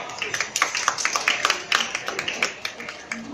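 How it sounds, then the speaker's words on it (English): An audience applauds with scattered, uneven claps at a World Book Day talk on reading to children, the sound thin and moderately distant, fading in and out over a few seconds. "Give yourself another round of applause."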